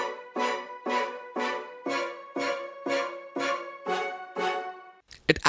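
Layered arrangement for an Asian bedroom R&B track: a soft pad with piano chord stabs, short bouncing violin spiccatos and more strings, pulsing in about ten even rhythmic hits before a brief noisy cut at the end.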